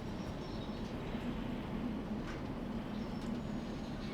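A freight train in the railway simulator game Derail Valley runs steadily with a dense, continuous rumble and a low mechanical hum, loud and even throughout, with no talking.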